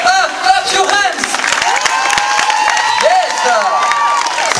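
Crowd at an evening event clapping hands together and cheering on cue, a dense steady roar of claps and voices throughout, with singing or shouted voices rising over it.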